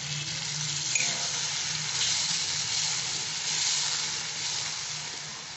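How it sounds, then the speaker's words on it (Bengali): Water poured into a hot pan of curd eggplant (doi begun) gives a continuous loud hiss and sizzle that stays even for several seconds, with no talking. "আর এখন আমি সামান্য একটু জল দিয়ে দিচ্ছি, ওটা তো শুকিয়ে যাচ্ছে"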